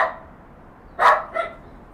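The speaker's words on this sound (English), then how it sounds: "What are you barking at, Ziggy?" A dog named Ziggy barks indoors, first a brief faint yip, then one loud close bark followed by a shorter softer one, with quiet background between.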